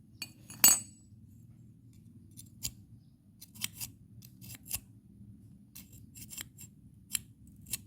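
Scissors scrape dirty crust off a gas stove burner, making a series of sharp, irregular scrapes and metallic clicks, one louder at the start and the rest spread through, over a low steady hum with no talking.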